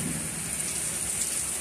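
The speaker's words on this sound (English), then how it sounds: "We have a torrential downpour going on here." Torrential downpour pours down in a dense, continuous hiss, loud and close, with no voices.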